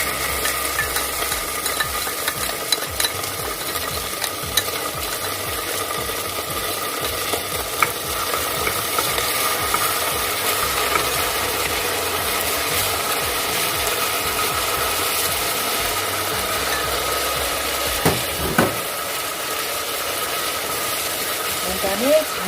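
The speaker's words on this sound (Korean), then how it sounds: "센 불에서 솥이 달궈지면 참기름을 넣고요. 이제 목 내장을 넣어요." Abalone innards are stirred in hot sesame oil in a pot over high heat. A continuous dense sizzle with scraping and rattling stir noise runs throughout, and a brief louder scrape comes near the end.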